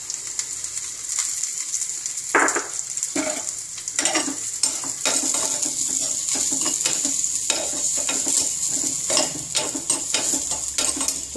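Crushed mustard seeds, cumin, pepper, garlic and chili fry in hot oil in a pan, giving a steady sizzle with scattered crackles and occasional stirring clinks of a utensil against the pan, close and continuous.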